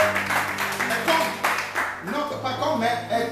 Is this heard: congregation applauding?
yes